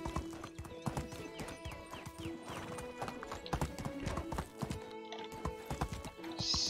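Horse hooves clip-clopping in the Medieval Dynasty video game, a rapid irregular run of sharp close hoofbeats with a brief whinny, loud and without speech.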